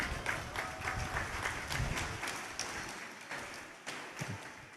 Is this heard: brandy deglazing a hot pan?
no